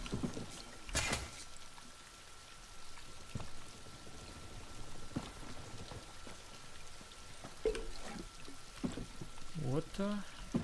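Water in Elder Scrolls Online makes faint, sparse splashes and drip-like plinks over a quiet background, with a few brief sloshing bursts near the end.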